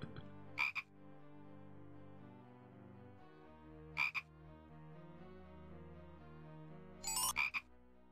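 A frog in the video game Simon the Sorcerer gives three separate croaks over a sustained musical background, spaced a few seconds apart.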